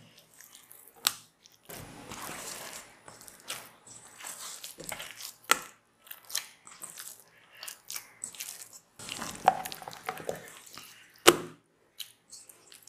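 Loose, sticky dough for mini pizzas, softer than chapati dough, is kneaded by hand. Intermittent wet squishes and slaps come in uneven bursts, close and fairly quiet, separated by short silences.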